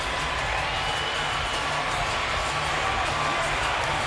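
A dense, continuous roar from a boxing arena crowd cheering after a Terence Crawford vs John Molina Jr bout, loud and unbroken throughout with no clear individual voices.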